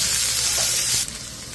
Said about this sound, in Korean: 삼겹살 줄 맞춰 올리니 치익치익 맛있는 소리가 천지에 울려 퍼집니다.